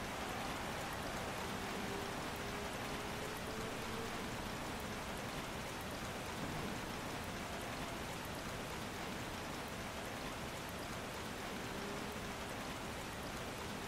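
Rain falling in the rFactor2 racing game during a Clio Cup race, a steady, even hiss that runs unbroken for the whole stretch, moderately faint, with no talk over it.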